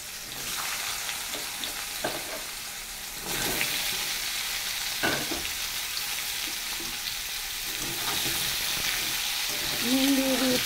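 Bitter gourd and potato pieces sizzle in hot oil in a kadai, a continuous close hiss broken by several scraping stirring strokes, the frying growing louder toward the end; no one speaks.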